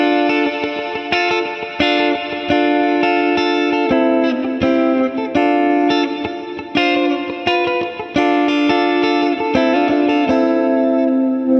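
A heavily processed instrument plays bright, sustained chords through a plate reverb effect, with a lush, lingering reverb tail that smears each note into the next.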